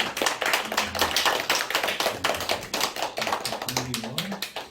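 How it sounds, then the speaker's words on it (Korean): Small church congregation clapping in welcome for a newcomer, a close, crisp patter of individual hand claps at an uneven rhythm, with faint murmured voices beneath. "우리 박수로 환영합니다"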